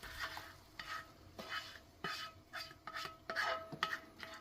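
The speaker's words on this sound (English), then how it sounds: "we're going to get this chorizo into my pan here." Cooked beef chorizo is scraped and stirred into a hot casserole pan, with soft rhythmic scraping strokes over a faint sizzle, quiet and close with no talking.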